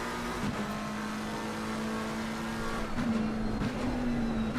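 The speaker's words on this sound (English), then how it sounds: "Oh, traction control's kicking in. You can hear that." A race car engine in a sim racing game at Zolder holds a high, steady drone, then stutters and chops rhythmically as traction control cuts in and out, before smoothing out again.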